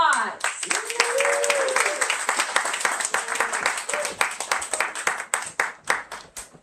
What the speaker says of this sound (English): Please, everyone, a round of applause.